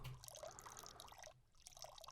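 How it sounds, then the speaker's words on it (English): A synthesized river-water atmosphere: soft trickling and dripping with bubbly, gurgling bursts, faint and intermittent with a brief lull in the middle. "It's some kind of river or something."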